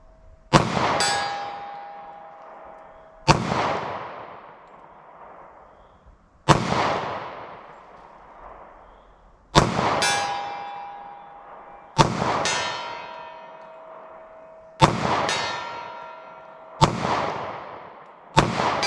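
.40 S&W pistol with a 3.2-inch barrel firing Federal Syntech Defense rounds outdoors, seven loud, evenly spaced single shots about three seconds apart, each with a long ringing decay.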